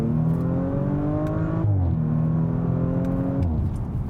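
Audi RS5 Coupé accelerating in second gear from about 50 km/h, engine tone climbing steadily, dipping briefly at a shift and then rising again, heard from inside without talk.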